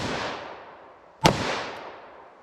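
A single sharp, loud .327 Magnum shot, fired from Federal HST ammunition into a ballistic gel block, cracks out midway and leaves a long reverberant decay, with the tail of an earlier shot fading at the start.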